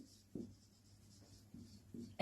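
Faint, scattered strokes of writing on a board during a classroom lesson, a few short scratches separated by quiet, with a voice starting at the very end.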